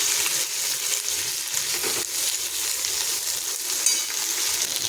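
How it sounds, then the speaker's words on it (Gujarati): Chopped okra sizzles and fries in hot oil while being stirred, a steady dense hiss close up with faint scraping throughout and no talk. "તો હવે આપણે અહીંયા સમારેલા ભીંડા નાખીશું। ભીંડાને આપણે તેલ સાથે સરસ મિક્સ કરી લઈશું।"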